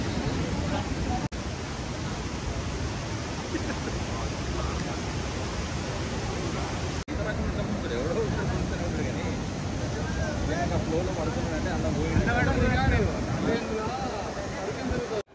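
Bogatha waterfall roars with a constant broad wash of rushing water, with people talking and chatting faintly over the steady noise.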